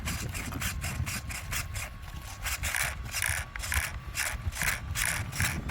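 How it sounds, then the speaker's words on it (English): A quick steering servo on a Team Corally Asuga XLR RC buggy sweeps back and forth, producing a rapid series of whirring mechanical buzzes, close and evenly spaced, with no talk. "I'm going to show you how quick this servo is"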